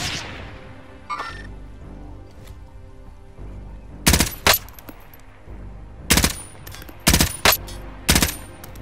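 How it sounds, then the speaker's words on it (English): Bursts of automatic gunfire in Call of Duty Warzone at Verdansk, with several sharp loud volleys in clusters over a low game ambience after a quieter opening. "Oh, he's shooting."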